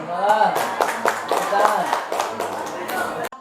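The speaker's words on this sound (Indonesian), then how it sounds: "Tepuk tangan." An audience at a school gathering on positive culture claps in steady applause for a presenter, the rapid patter of hands mixed with voices speaking over it.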